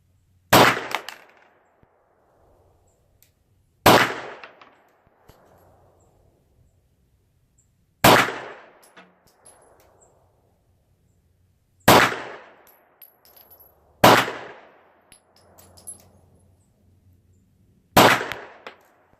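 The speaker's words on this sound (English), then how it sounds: "So I'm going to shoot 5 shots downrange." Hudson H9 pistol firing downrange, six sharp, loud single shots spaced a few seconds apart, each with a short decaying echo and near silence between.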